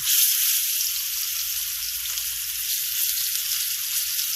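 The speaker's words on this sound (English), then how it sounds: "we're going to sear up each side roughly like 3 minutes, 3 to 4 minutes on each side" Iguana meat sears in a hot pan, giving a loud, steady sizzle that runs unbroken throughout with no voices.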